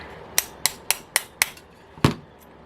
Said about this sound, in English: Now it's a matter of finding the right Torx bit that I can tap in there.